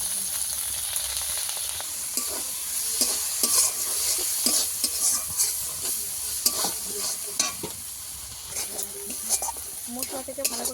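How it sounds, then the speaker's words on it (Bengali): Masala spices sizzling and frying in oil for an egg and eggplant curry, with steady scraping and stirring strokes of a spatula in the pan throughout, close and moderately loud. "ভালো করে মশলা কষিয়ে নিতে হবে। তেল ছাড়া পর্যন্ত"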